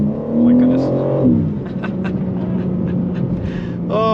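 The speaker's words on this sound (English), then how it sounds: "The motor sounds amazing too." A G80 BMW M3 engine revs hard under acceleration, its pitch climbing before dropping at a gear shift, then settling into a lower rumble as it pulls away.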